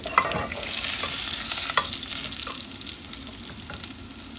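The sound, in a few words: garlic frying for tempering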